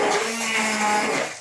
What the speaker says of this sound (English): When you finish blending all off, put your cup of flour in there and blend it up as well.